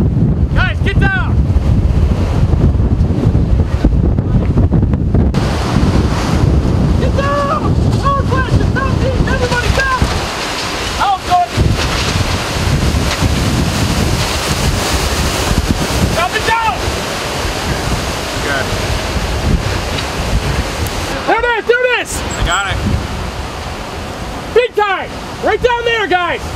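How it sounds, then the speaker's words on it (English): Tornado roaring overhead in the Dixie Alley region, heavy wind rush buffeting the microphone throughout, with shouting voices breaking in over the roar. "there's a tornado right up here coming down right on top of us"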